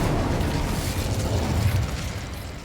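Incendio fire spell cast in the Hogwarts Legacy video game, a continuous roaring, crackling burst of flame that stays loud and steady throughout with no talk over it.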